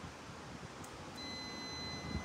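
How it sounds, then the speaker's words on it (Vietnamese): A multimeter beeps on a continuity test during motorcycle smart-key lock work: one faint, steady high tone begins partway through and holds to the end over a low background hiss. "các anh lúc này có thể nhìn thấy cái đồng hồ của em nó kêu tít tít là được rồi"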